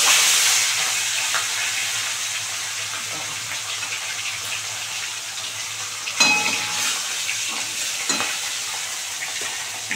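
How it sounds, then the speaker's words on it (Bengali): A fish head rubbed with salt and turmeric fries in hot white oil, giving a steady, close sizzle for about ten seconds with a few louder spatters and stirring clatters partway through. "এবার মাছের মাথাটা নুন হলুদ মাখানো এবার ভালো করে ভেজে নেব।"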